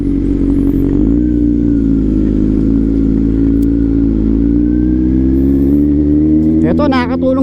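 A Kawasaki Z900 motorcycle exhaust drones loud and close at a steady idle, rising in pitch after the first second and holding a continuous rumble, with a few brief higher sounds near the end.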